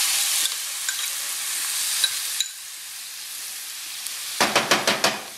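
Onion and ginger mixture frying in a pan for chole, a steady broad sizzle that drops quieter midway, then a burst of quick scraping stir strokes near the end.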